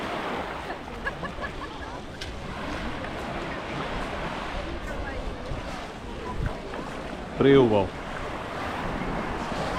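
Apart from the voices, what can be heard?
beach waves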